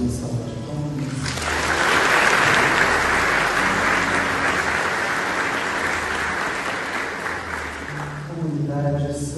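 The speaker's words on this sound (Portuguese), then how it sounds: "Vamos acolhê-los com uma salva de palmas" A church congregation at a Pentecost Mass breaks into sustained applause welcoming parish communities, the clapping swelling quickly and holding full and dense for about seven seconds before fading, with a voice and music faintly at either end.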